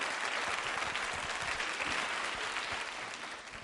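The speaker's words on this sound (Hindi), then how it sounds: "तालियां जोरों से बजाएं आपके सम्मान में" An audience at a women's quiz show on tourism claps in sustained, dense applause that fades slightly toward the end.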